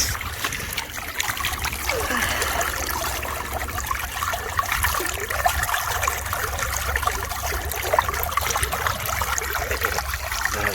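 Water rushes steadily through a gold sluice box while prospecting for glacial gold in Ohio, a constant close wash of trickling and splashing.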